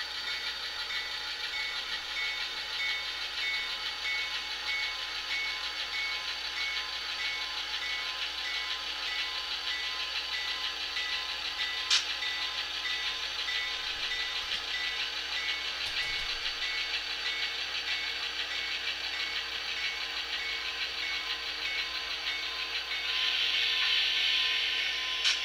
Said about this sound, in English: Our train coming from the east pulls into the Sherwood interchange yard.